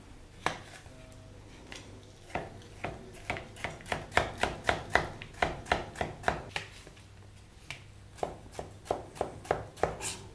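A knife chops vegetables into thin strips on a board in a quick, rhythmic run of crisp taps. The taps pause briefly midway and then resume, close and fairly quiet, with no voices.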